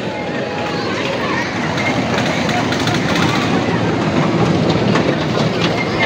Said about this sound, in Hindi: वो छोटी सी ट्रेन देखो,